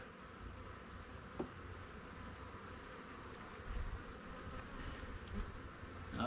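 Honey bees buzzing on the back of a hive board, a faint continuous drone under low background noise, with a few soft handling bumps.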